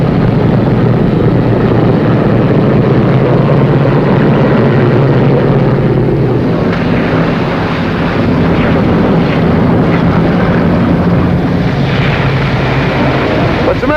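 A 1950-era aircraft taxiing onto a runway, a loud, steady propeller engine drone that holds for many seconds with a rough, wind-buffeted quality.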